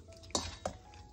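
A spoon stirring a chicken liver adobo mixture in a pan, giving two quick scraping clinks against the metal over a soft background hiss, close and fairly quiet.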